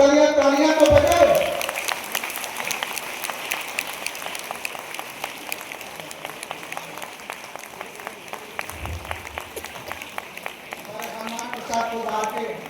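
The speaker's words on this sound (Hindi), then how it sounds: "जोरदार तालियां तालियां तो बजाओ।" Audience applause at a school celebration program for people with disabilities, steady dense clapping from a crowd filling the hall, with a voice briefly over it at the start and end.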